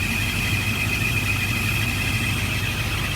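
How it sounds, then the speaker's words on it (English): A warmed-up Rover SD1 V8 idles low and slow, a steady throbbing rumble with a faint whine riding above it, close by and without speech. "the engine warmed up."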